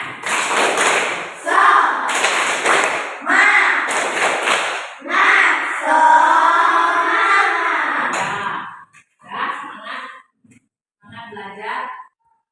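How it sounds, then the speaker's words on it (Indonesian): A class of pupils performs a rhythmic spirit clap chant, bursts of sharp hand claps alternating with chanted voices in a steady pattern, close and loud, before trailing off into scattered speech. "Kita tepuk semangat."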